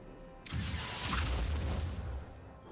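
An in-game explosion in the tactical strategy game Phoenix Point erupts suddenly, a loud booming blast with a heavy low rumble that sustains for about two seconds before fading, with no talk over it.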